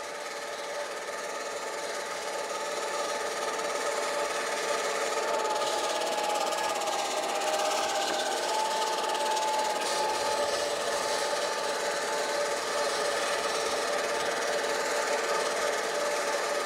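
Swardman Electra 2.0 electric reel mower cutting a lawn at 14 mm, giving a steady, close whirring rasp of spinning blades that runs without pause throughout.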